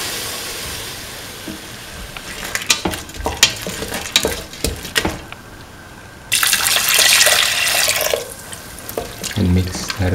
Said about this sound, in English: Pour in 300 ml of thin coconut milk.